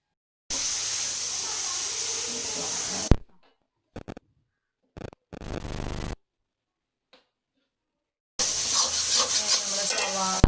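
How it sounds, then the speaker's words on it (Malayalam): Chopped green chillies sautéed with ginger and garlic in a pan for beef cutlet, giving bursts of loud sizzling and stirring that break off into short gaps and silence before the frying returns strongly. "പച്ചമുളക് ചെറുതായി അരിഞ്ഞത് ഇട്ട് നല്ലോണം വഴറ്റി കൊടുക്കാം."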